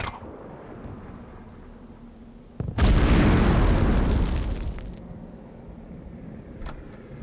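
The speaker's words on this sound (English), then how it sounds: "I'm gonna throw a grenade at this for science." A grenade detonates in Medal of Honor Underground, a loud sudden boom after a quiet stretch, followed by a broad rumbling roar that decays over a couple of seconds into low ambient noise with a faint metallic tick.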